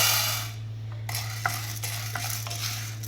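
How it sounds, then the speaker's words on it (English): Chana dal dry roasting in a pan, heard as soft scraping and stirring with a few light clicks of a spoon against the metal over a steady low hum. "Now in a pan, I am going to dry roast this Chana Dal."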